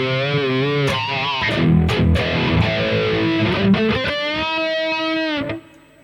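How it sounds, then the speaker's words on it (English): Distorted electric guitar played through the flanger effect of a Harley Benton DNAfx GiT Pro modeling unit, sweeping and whooshing, sustained chords and bends ringing out loud and close before cutting off near the end. "Let's check out the flanger."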